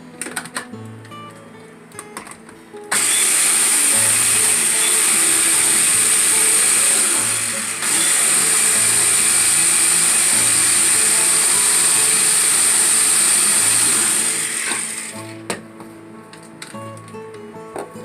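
A blender whirs loudly through a thick roasted red bell pepper hummus for about twelve seconds, its motor a steady high roar with a short dip midway, starting and stopping abruptly amid quieter kitchen handling.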